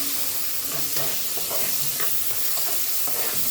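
Rice going into a pan of fried vermicelli, giving a steady, dense sizzle of hot frying with scraping and stirring noises throughout. It sounds close and constant, with no voices.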